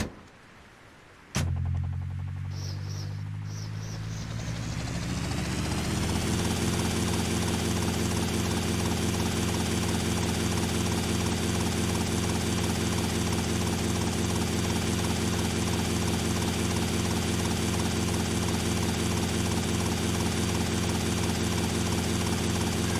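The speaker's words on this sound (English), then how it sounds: "Helicopter" In GTA Vice City, a helicopter engine starts up with a sharp thump, then spools into a loud, steady rotor drone that holds without letup.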